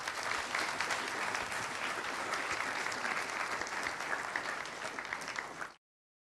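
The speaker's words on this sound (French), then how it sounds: "Donc beaucoup d'applaudissements pour lui." An audience of engineering students applauds a speaker at the opening of a congress in Nancy, sustained dense clapping that holds steady for several seconds, then stops abruptly.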